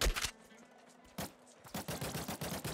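An infinite pistol firing in the roguelike video game Nuclear Throne produces a quick string of short, punchy electronic shots, a few at first, then a fast regular run of about eight, with other game noise in between.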